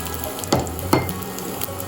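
Garlic hits hot cooking oil in a pan and sizzles steadily, with a couple of sharp stirring clatters against the pan, close and clear with no talk.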